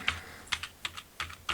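Quiet, close computer keyboard typing as someone fills in an online registration form: about five sharp, separate keystrokes at an uneven pace, with no voice.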